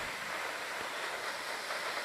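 A waterfall in Yellowstone National Park roars as a steady, broad rush of falling water, continuous and fairly distant with no voices over it.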